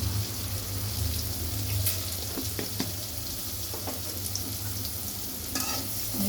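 Food with a little turmeric frying in a pan while being stirred, a constant close sizzle broken by scraping and clinking strokes of the utensil, over a low steady hum.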